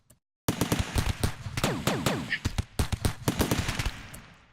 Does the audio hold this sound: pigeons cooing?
no